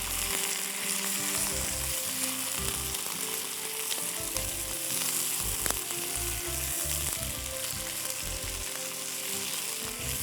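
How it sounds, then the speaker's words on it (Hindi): Chicken pieces fry in a pan with ginger garlic paste, giving a continuous loud sizzle and crackle with occasional stirring scrapes, no voices. "अच्छी तरह इसको आप फ्राई करिए चिकन को, चिकन के पीसेस का कलर चेंज हो जाए"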